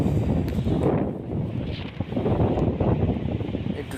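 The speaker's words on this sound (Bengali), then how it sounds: "একটু সমুদ্রের পাড়ে বসে দাঁড়িয়ে দাঁড়িয়ে একটু হাওয়া টাওয়া খাচ্ছি" Sea breeze gusts across Mandarmani beach, buffeting the microphone in rumbling surges that rise and fall, close and moderately loud, with faint ocean wash beneath.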